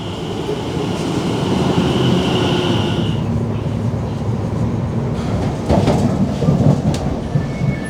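A Greater Anglia train bound for Hertford East rumbles into a station platform, a steady roar with a fading high whine, then rattling and clanks as it slows.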